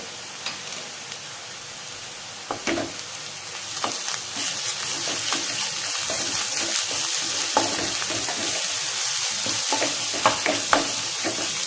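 Onions with ginger garlic paste sauté in coconut oil for a prawn masala curry, a loud, steady hiss of frying with periodic scraping stirs from a spoon, close up and without talk.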